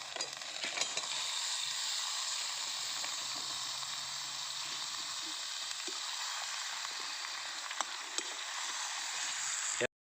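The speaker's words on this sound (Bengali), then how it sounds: "এরপর আমরা দিয়ে দিচ্ছি চিকেনটা, দিয়ে ফ্রাই করব মশলাটার সাথে।" Chicken pieces frying with spices in a pan, a soft, steady sizzle and hiss running throughout at low level, with a few light stirring clicks and scrapes.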